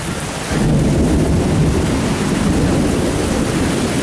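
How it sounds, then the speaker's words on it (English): Heavy rain pours down with thunder, a dense roaring wash that jumps louder after about half a second and then holds steady and loud, with no voices. "it's raining as hard as it is, and I mean cats and dogs"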